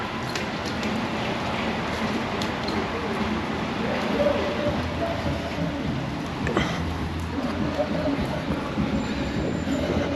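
A train rumbles steadily along at the port of Rotterdam, Netherlands, a continuous heavy rolling noise with faint wheel squeal, lasting throughout without pause.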